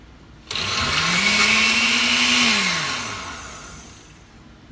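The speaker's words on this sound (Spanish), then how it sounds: "Aquí yo voy a poner en mi licuadora los kiwis y voy a pasar a moler" Kitchen blender grinding kiwis for a sweet kiwi drink, starting abruptly and whirring loudly with a rising, steady motor hum that slowly winds down near the end.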